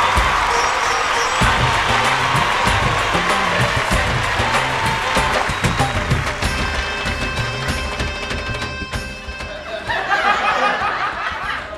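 A studio audience at the Bhojpuri singing contest Sur Sangram welcomes singer Pooja Jha from Mithilanchal with loud applause and cheering. The clapping is dense and continuous for about twelve seconds, with some laughter and crowd voices mixed in.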